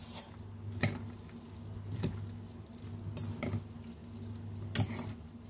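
Cucumber salad being stirred and mixed in a bowl, with a few soft scrapes and clinks at irregular intervals over a low steady background hum; no voices.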